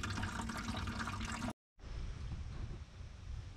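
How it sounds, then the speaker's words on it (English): Coolant draining from a Jeep Wrangler radiator, a steady splashing, trickling pour of liquid close by, broken by one short pause before the flow resumes just as strongly. "Now that I've drained some coolant"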